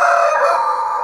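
A Sussex chicken crows in one sustained, loud, close call that fills the whole short stretch, with no voices present.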